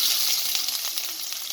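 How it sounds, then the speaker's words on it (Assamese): Chopped onions frying in refined oil with panch phoron, a dried red chili and a bay leaf, giving a steady close sizzle with faint stirring. "আৰু ৰঙচুৱা হোৱালৈকে ভাজি লৈছোঁ"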